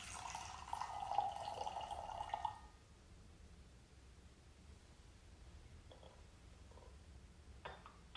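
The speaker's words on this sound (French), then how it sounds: "Je transvase l'eau dans la verseuse." Hot water, just off the boil, pours into a serving pitcher for gaiwan tea: a soft liquid stream for about two seconds, then near silence with a few faint clinks.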